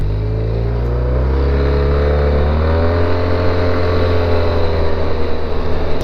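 A Honda Silverwing maxi scooter engine hums steadily while riding through corners, a loud, even drone with rising and falling pitch, mixed with wind rush and no talking.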